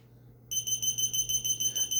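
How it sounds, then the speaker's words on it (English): A small key finder answers a button press with rapid, evenly pulsed high beeps that start abruptly and repeat steadily, close and fairly loud in a quiet room. "this button, you're gonna hear a beep."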